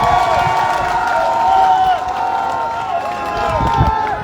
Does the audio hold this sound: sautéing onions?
no